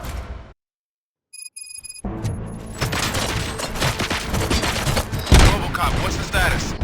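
Gunfire in the video game RoboCop: Rogue City, on Xbox Series: after a short silence and electronic beeps, a loud stretch of rapid overlapping shots and booms bursts out, with a heavy impact near the end and a voice among the din.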